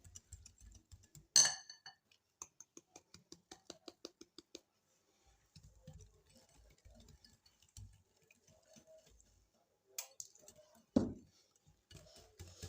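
A utensil clinks against a bowl while sugar is added bit by bit to chocolate cake batter, with quiet, rapid rhythmic taps, occasional sharper knocks and soft scraping between them.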